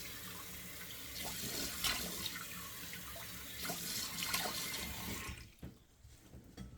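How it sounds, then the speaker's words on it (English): Sink tap runs water for splashing cold water on the face before a shave, a close steady rushing stream with a few splashy surges, then cut off near the end leaving quieter room sound. "turn the water on. 2 splashes of cold water"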